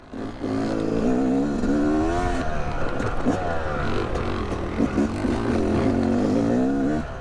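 Two-stroke dirt bike engines, a Yamaha YZ250X and a KTM TPI, revving loudly and close with rising and falling pitch as they ride, a rider's shouts mixed in.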